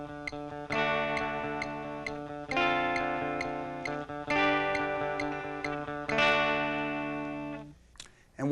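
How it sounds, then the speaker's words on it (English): Distorted electric rock guitar riff over a metronome ticking quickly at 132 beats per minute, loud sustained chord phrases repeating with the steady clicks, no voices. "And with the metronome set at 132, it sounds like this."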